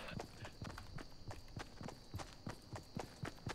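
Running footsteps in the multiplayer game Fortnite give a fast, steady run of loud, close thuds, about three or four each second, over a faint constant tone, with no talking.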